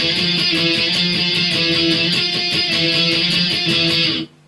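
Electric guitar playing a solo pattern with steady down strokes, a continuous bright driving strum that cuts off abruptly at the end.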